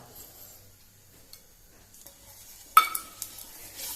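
Batter for a Goan tandha pole pancake hits a hot pan with a sudden sizzle, after a quiet stretch of faint kitchen clinks; the frying hiss then carries on with a few small crackles.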